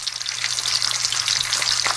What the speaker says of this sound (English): I like sizzling, and plus I've got the sound effect for it.